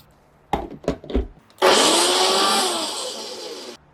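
A small blender whips egg yolk with salt, apple vinegar and olive oil: a few short knocks, then a loud, close, steady motor whir that runs about two seconds before cutting off.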